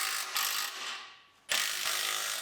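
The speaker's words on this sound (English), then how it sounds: "Go back and forth as you tighten them down. We'll tighten up to our H-pipe." A ratchet works on exhaust clamps at the H-pipe of a 1993 Mustang GT: close, dry clicking bursts that pause briefly for about half a second, then resume.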